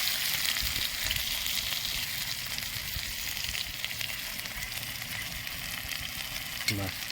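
Onions and garlic frying in a pan, a continuous dense sizzle with faint stirring, steady and close throughout, with a brief utensil scrape near the end.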